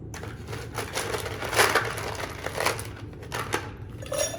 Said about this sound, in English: So we'll start by filling our mixing glass with ice.